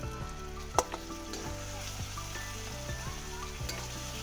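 Ginger and garlic sizzle in very hot oil with browned onion, a steady close frying crackle broken by a few sharp clinks and scrapes of a stirring utensil.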